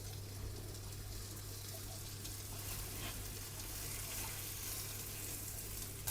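Beef cheeks searing in a ripping-hot pan, a steady dense sizzle that holds at an even level throughout, close and continuous with no talking.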